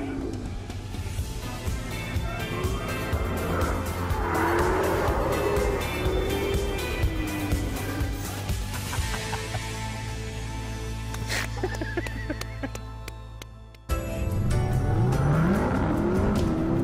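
Cadillac CTS-V or Hellcat Challenger spinning its wheels on a proving-ground obstacle course, a long engine roar with wavering tire squeal, a brief cut, then a rising squeal; voices talk faintly underneath.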